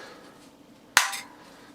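A hammer strikes the fan case of a 1996 Numatic Henry vacuum cleaner once, a sharp, close metallic tap with a brief ringing decay in an otherwise quiet room.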